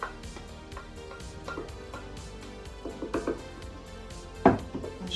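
Onions and carrots are stirred back into a pot of braised short ribs, giving a few soft scrapes and dull clunks of a utensil against the pot, quiet and intermittent over a low background.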